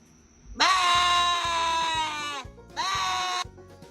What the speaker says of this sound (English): Oh my God, you guys have goats.